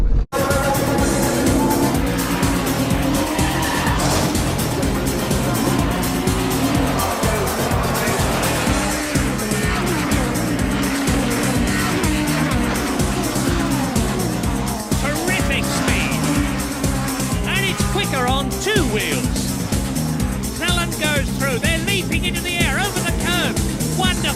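1990s British Touring Car Championship cars race in a loud, continuous roar of engines, with brief hints of tyre squeal, all under steady excited race commentary.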